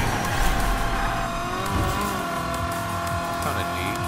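Toy car drifting with turbo in the Hot Wheels Unleashed video game: a steady, loud, high engine whine with tire squeal and skidding that carries unbroken through the whole stretch.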